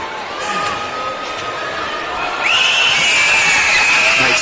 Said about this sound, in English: A crowd yelling happy birthday, I do believe.